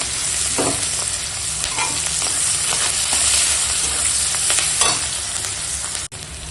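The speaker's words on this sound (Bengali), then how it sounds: "এখন পেঁয়াজ কাঁচা লঙ্কা দিয়ে ভালো করে ভেজে নেবো" Onions and green chilies fry hard in hot oil left from frying fish, a dense, loud, continuous sizzle with scraping stir strokes and a few clunks, and no talking.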